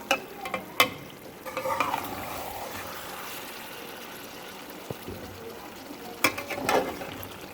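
Masala-stuffed eggplants being gently turned with a spoon in a pan: a few sharp clinks of the spoon against metal open and close the passage, while a low sizzle and soft scraping fill the quieter middle.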